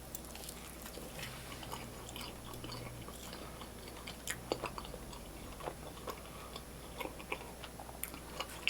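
Quiet, close chewing and biting of Little Caesar's pretzel crust pizza with cheesy jalapeno, a steady run of soft crunches and small clicks of the mouth with no talking.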